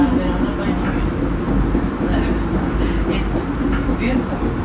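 A passenger train rolls along the rails, a steady close rumble and rattle from inside the carriage with faint squeaks above, constant throughout.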